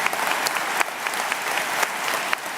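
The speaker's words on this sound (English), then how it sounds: "we give him a round of applause" An audience applauds during a speech at the FOCAC summit: steady, dense clapping with a few sharper claps standing out, loud and close, and no talking over it.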